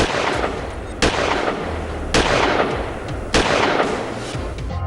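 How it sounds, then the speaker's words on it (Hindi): Rapid gunfire at a village fertilizer queue in Kaimur, Bihar: loud sharp shots in quick bursts, with distinct reports near 1, 2.2 and 3.3 seconds over continuous crackling, no talk. "एक तो नहीं, ताबड़तोड़ 15 राउंड की फायरिंग"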